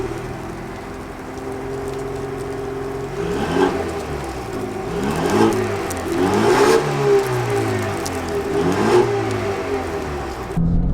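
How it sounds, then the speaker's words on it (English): A 2024 Ford Mustang with the I4 turbo engine accelerating from inside the car, its engine note rising through several revving surges with shifting pitch over a steady road rumble. "Let's go ahead and drive the Mustang first"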